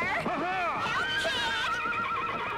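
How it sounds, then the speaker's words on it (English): A horse neighs loudly in a long, wavering whinny from a television programme, with speech and faint hoof clip-clop mixed in. "a black knight on a charging horse"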